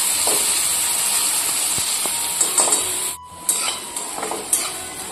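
Chopped onions cook slowly over low heat in a pan for a Gujarati-style cauliflower and potato curry, giving a steady soft sizzle and hiss with a few light stirring scrapes and clinks.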